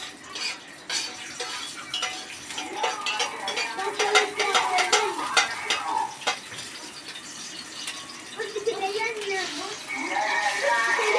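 Meat goes into a hot pot for kebab halla and fries with a soft sizzle, mixed with spoon stirring and clinks of utensils against the pot, while someone talks over it.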